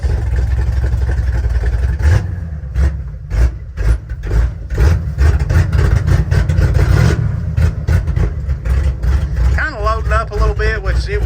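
A 1966 Chevrolet C-10 truck engine runs loud and close after a cold start, with a low rumbling idle and surging revs. Someone talks over it throughout.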